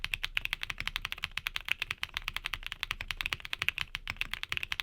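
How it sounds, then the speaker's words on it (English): Rapid keystrokes on linear mechanical keyboard switches whose stems bottom out against a metal insert give a steady, even stream of crisp, slightly metallic clacks, close and alone. "This stem hits this piece of metal when bottoming out, giving you a unique metallic tinge to your keystrokes."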